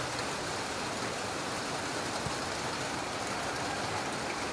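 Heavy rain pours down on an open football stadium during a Goa Pro League match, a steady dense wash of hiss with no break and no voices, loud and even throughout.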